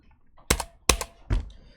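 Computer keyboard keys pressed for a Ctrl+F search while coding a login page: three sharp, close clicks spaced about half a second apart over near silence.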